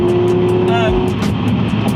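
A Subaru Impreza STI S203 engine roars steadily at speed on a private road, loud and close, with a rising pitch sweep midway as it carries through a bend; a voice talks over it.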